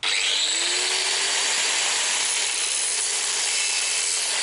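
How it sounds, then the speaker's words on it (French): A large angle grinder cuts steadily through part of the front axle assembly of a Citroën Traction 11B. The harsh, loud, continuous grinding roar sits close by with no pauses and no talking. "je vais l'attaquer avec un plus gros lapidaire."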